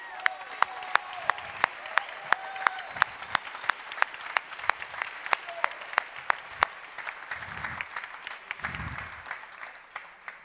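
Audience at a pitch competition applauds, with a few close, sharp, evenly spaced claps ringing out over a softer spread of crowd clapping that continues for about ten seconds.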